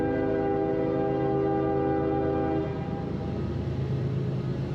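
A train horn sounds near a railroad trail by the old wrought-iron Bowman Bridge, a long steady blast with rumbling rail noise beneath that carries on after the horn fades partway through.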